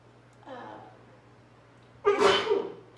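A single sharp sneeze bursts out near the end of a board meeting, loud and close, after a faint earlier breathy sound in a quiet room.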